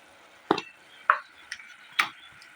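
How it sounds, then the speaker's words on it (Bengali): A spoon or spatula stirs a paste of ginger, cumin and chili into hot oil, giving four separate scraping clacks spaced about half a second apart over a quiet, faint sizzle. "এগুলো পেস্টটা আমি তেলের ভিতর দিয়ে দেবো, দিয়ে একটু নাড়িয়ে দেবো।"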